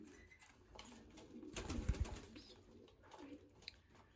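Racing pigeons in a loft being readied for shipping, soft low cooing with a brief burst of rustling or wing flaps in the middle, faint and close.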